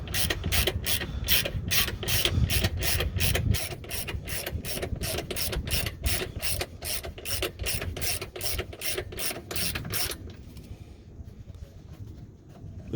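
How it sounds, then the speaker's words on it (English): A ratchet wrench tightening a strut-side torque mount bolt, a long run of quick regular clicks up close that stops abruptly, leaving a quiet tail, no talk. "now I can use the wrench"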